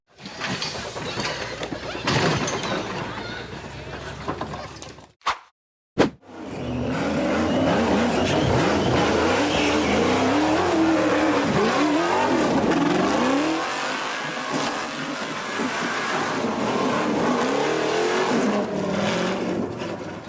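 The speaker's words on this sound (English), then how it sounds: "The off-road vehicle accelerated rapidly and hurtled up the steep cliff." An off-road 4x4 vehicle accelerates hard up a steep hill, its engine roaring loud and close. A brief cut and a sharp knock come partway through, then sustained revving and straining climbs and falls.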